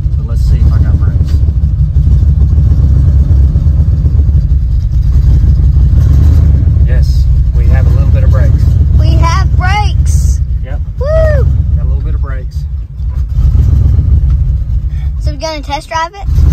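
An old Chevrolet Nova's engine idles with a loud, steady low rumble throughout, after sitting parked for 24 years, while someone talks over it.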